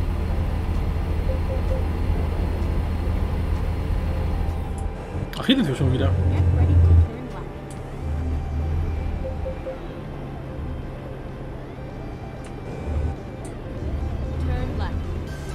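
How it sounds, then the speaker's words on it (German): A car rushing past a truck in American Truck Simulator, a brief swelling whoosh over the steady low drone of the truck's engine, with someone talking in German over it. "Oh, da kommt ein Auto."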